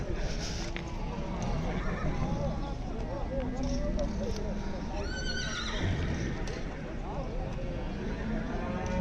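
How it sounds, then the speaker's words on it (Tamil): A white horse neighs repeatedly at a busy Kyrgyzstan animal market, with clip-clopping hooves and crowd chatter throughout, the whinnies rising clearly above the steady background noise. "இங்கே பார்த்தீங்கன்னா வெள்ளை குதிரை இருக்குது"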